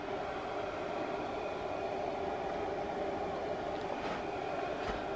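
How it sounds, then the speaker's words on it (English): A steady mechanical whir with a constant hum from the cooling fan of a vintage Kodak Carousel slide projector running close by, unbroken throughout with no voices. "And that noise is the fan."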